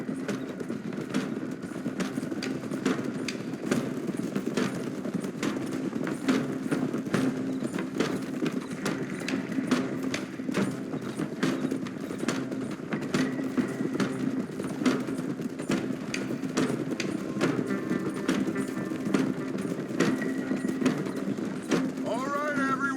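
Several horses gallop in Red Dead Redemption 2, a steady, fast clip-clop of hooves continuing throughout at moderate loudness, with people talking over the hoofbeats.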